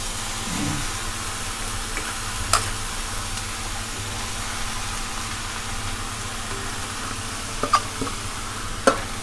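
Chopped bottle gourd vine leaves and stems dropped into a garlic tempering, giving a steady low sizzle with a few sharp clinks of a spatula against the pan, no one talking.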